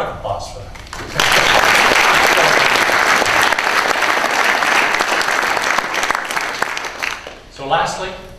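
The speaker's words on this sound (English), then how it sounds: "Round of applause for that." Sustained audience applause at a food industry keynote, a full room clapping loudly and steadily for several seconds before fading, with voices briefly audible at the start and end.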